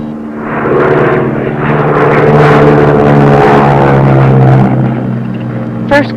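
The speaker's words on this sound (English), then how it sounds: "this is a 2-engine plane. It's a Beechcraft Baron." A twin-engine Beechcraft Baron propeller plane drones loudly and close by, a steady engine hum that swells slightly in the middle and then eases off, with no talking.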